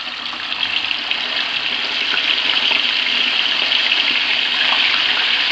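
Chicken tikka pieces slide into hot oil for deep frying, giving a steady, loud sizzling hiss that holds through the whole stretch and swells slightly partway in, with no talk over it.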